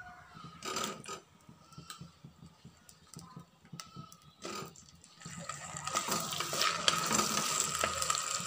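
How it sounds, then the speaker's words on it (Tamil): Okra (ladies finger) sautéing in hot oil for a tamarind curry, with scattered stirring clatters at first, then a louder, steady sizzle building through the second half; a voice is faintly present. "இப்போ எண்ணெய் காஞ்சதும் வெண்டைக்காயை போட்டு வதக்கிக்கோங்க"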